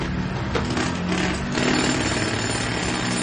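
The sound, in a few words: drill breaking stone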